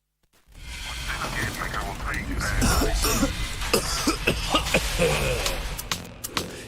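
Harsh, repeated coughing in a Kenyan TV health announcement about a persistent cough, a series of sharp, close bursts mixed with a voice.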